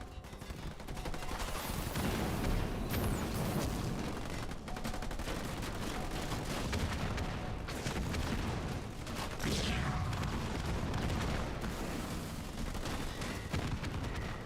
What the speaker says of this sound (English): How come he's shooting now?